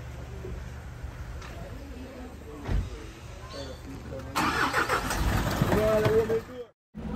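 Car driving along a mountain road, with a steady low engine and road rumble throughout that grows louder and busier in the second half, briefly cutting out near the end; voices talk over it.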